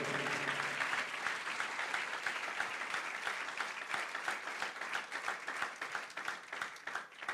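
A church congregation breaks into strong, sustained applause, many hands clapping in a dense, steady roar that continues for several seconds, fairly distant and even in level.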